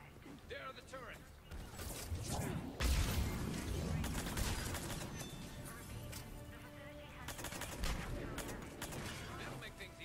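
Turrets open fire during a Mass Effect Legendary Edition battle on Insanity difficulty, with dense bursts of gunfire and mechanical clatter that swell and persist under in-game voices.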